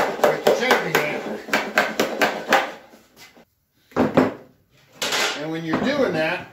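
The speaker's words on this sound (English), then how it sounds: "working around the edge with the chafing hammer" A chafing hammer strikes the edge of a metal fuel tank panel on a bench, close sharp metallic blows in quick rhythmic bursts, pausing briefly, then resuming in a denser flurry of ringing hits.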